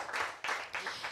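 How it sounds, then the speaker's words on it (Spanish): Audience applause for a guest at an International Women's Day event, a few short bursts of clapping rising and falling over about a second, fairly faint and distant. "un aplauso también para Cristina Bio, que nos acompaña"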